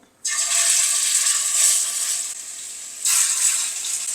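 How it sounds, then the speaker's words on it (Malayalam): Marinated chicken hits hot coconut oil and sizzles loudly, a bright crackling hiss that eases off, then flares up again as more is added. "ഇനി നമ്മൾ മാരിനേറ്റ് ചെയ്ത് വെച്ചിരിക്കുന്ന ചിക്കനോടൊന്ന് വറുത്തെടുക്കണം"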